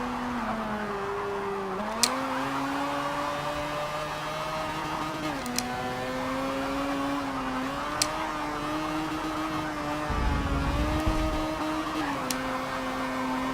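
A race car engine in Forza Motorsport 7 drones steadily through a B Class league race, its pitch dipping and rising as the driver eases off and gets back on the throttle, with faint clicks of gear changes and no talk.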